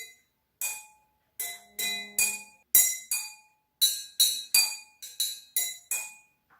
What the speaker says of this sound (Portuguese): Aqui eu vou fazer com 2 taças iguais, para mostrar como o som é diferente.